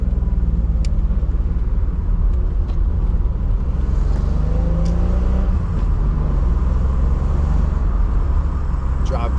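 Steady, loud low engine rumble and road noise from inside a 1993 Nissan 300ZX cruising along, continuous throughout with no distinct revving peaks.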